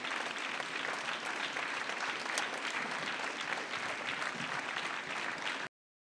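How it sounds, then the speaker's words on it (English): Sustained audience applause at a summit of first ladies and gentlemen greets a family from Kherson, a dense, even wash of clapping that holds steady and then cuts off abruptly. "Let's give them a round of applause."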